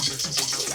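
Water pours into a pan while roadside-style mushroom is cooked, a brief close splashing gush lasting under a second.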